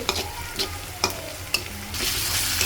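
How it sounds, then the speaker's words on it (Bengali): Onions sizzle and crackle in a hot pan, with a few sharp scraping stirs at regular intervals before the frying hiss grows steadier. "এই তো এখানে আমি পেঁয়াজ ভেজে নিতেছি।"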